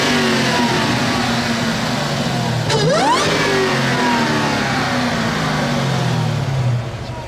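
Stock-exhaust 2015 Dodge Challenger SRT Hellcat engine revving hard, a loud sustained roar that climbs sharply in pitch mid-way, then settles back into a steady, powerful drone, close and continuous with no talk.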